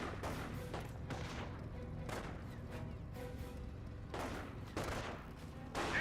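Rifle gunfire from infantry squads crackles in a Company of Heroes battle, repeated sharp shots and short volleys popping over a continuous low rumble of combat, moderately distant.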